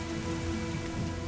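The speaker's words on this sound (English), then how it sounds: "Some find the cold downpour irritating" A cold downpour of rain over the pastures of the Masai Mara falls as a steady, even hiss, close and moderately loud with no other sounds.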